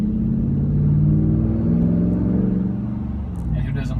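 A 2015 Ram R/T pickup truck engine rumbles and revs steadily, deep and loud, holding a throaty idle-to-rev growl with no talking over it.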